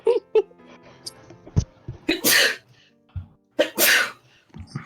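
A woman sneezes several times in sharp bursts close by, mixed with laughter and chatter from people in the room.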